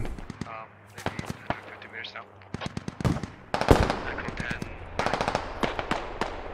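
Bursts of automatic gunfire and single shots crack through a tactical shooter firefight, some close and loud, others more distant, with a player talking over much of the shooting.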